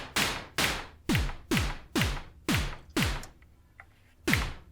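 A run of punchy electronic drum hits from a Behringer Crave synthesizer, a deep booming kick with a falling pitch alternating with a snappier snare, evenly spaced, a brief gap before the final hit.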